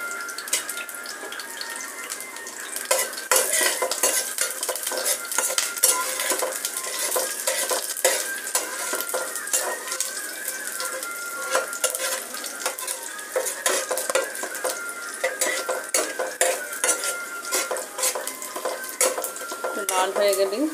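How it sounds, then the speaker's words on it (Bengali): Five-spice seeds with garlic and chopped red chilli fry in mustard oil, a steady crackling sizzle with frequent metal spoon scrapes and clinks against the pan throughout, close and continuous, no talking. "5 ফোড়ন দিয়ে দিলাম।"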